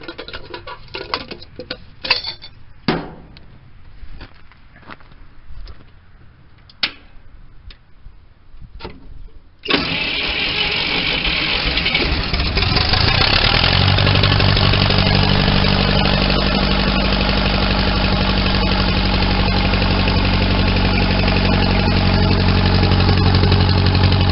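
The engine of the big 20 being started: about ten seconds of light ticking and pattering cranking, then it catches and settles into a loud, steady, close running drone that continues to the end.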